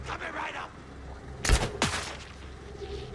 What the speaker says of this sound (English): that crossbow's got a harsh reload